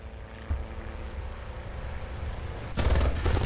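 Military aircraft engine noise in the War Thunder video game on the Mozdok map: a steady, fairly loud broadband roar with a sharp louder burst near the end, like gunfire or a close pass.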